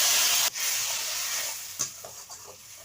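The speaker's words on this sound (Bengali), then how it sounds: "এই তেলে পাঁচফোড়ন ফোড়ন দিলাম, ঝাল সর্ষে বাটাটা আমি দিয়ে দিলাম।" Mustard paste hits hot oil seasoned with panch phoron five-spice tempering in a village kitchen. A loud burst of sizzling is followed by a softer crackle with a few stirring scrapes.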